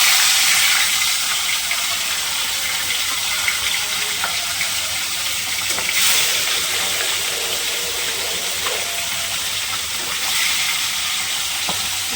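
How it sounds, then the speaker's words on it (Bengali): Whole fish frying one piece at a time in hot oil in an iron wok, a steady loud sizzle and crackle that carries on unbroken throughout. "একটা করে সব মাছ দিয়ে দিলাম, ভাজা হোক"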